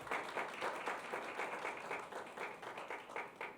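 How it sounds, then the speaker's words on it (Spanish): Audience applause at a medical microbiology symposium welcome, steady even clapping from a seated crowd heard at a distance, fairly faint and continuous with no talk over it. "Un aplauso por favor a la doctora."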